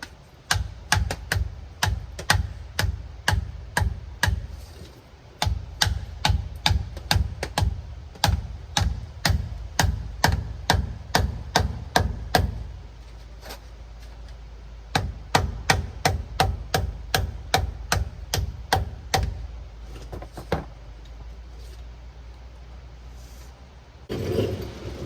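Light hammer taps on the rear axle cover of a 1999-2003 Ford Super Duty, struck to cut through the silicone seal between cover and axle housing: sharp, evenly spaced metallic knocks in quick runs with short pauses, close and loud.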